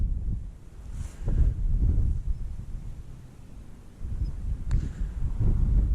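Strong, gusty wind from Storm Ellen buffets the open hilltop of Bamford Edge, a low roaring rumble that swells and eases in repeated gusts over several seconds, with no voices.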